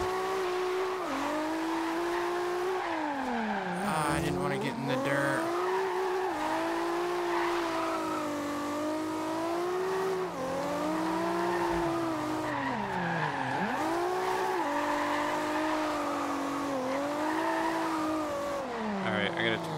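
A Toyota Supra drifts in Forza Horizon 2. The engine revs rise and fall in repeated sweeps, with tire squeal running through them. The sound is loud and continuous throughout.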